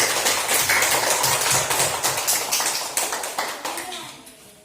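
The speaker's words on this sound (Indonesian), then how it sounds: "Ya, tepuk tangan untuk Excel." Schoolchildren in an Indonesian classroom clapping their hands together for a classmate, a dense burst of many small hands that slowly thins and fades over several seconds, with a voice faintly audible near the end.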